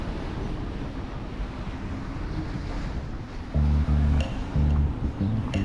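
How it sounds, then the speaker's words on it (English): Ocean waves wash against a sailing catamaran beating upwind across the Atlantic, with steady wind and water noise, then several loud low thumps of waves striking the hull near the end. "Can you do a little bit of filming the waves coming over?"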